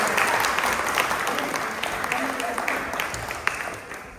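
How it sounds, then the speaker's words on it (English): Audience applause at an evening performance event, a dense steady clapping from a crowd that fades gradually, with a voice speaking briefly over it. "a round of applause?"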